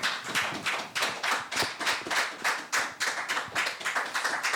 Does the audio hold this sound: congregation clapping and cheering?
yes